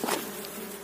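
Wild forest honey bees buzzing in a brief, close, steady hum.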